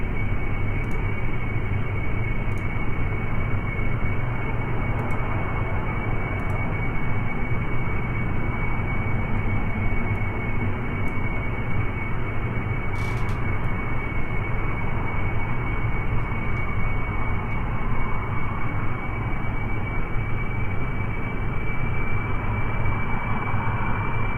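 Plane engine in Kerbal Space Program, a steady loud droning roar with a constant high whine, running unbroken with a few faint clicks.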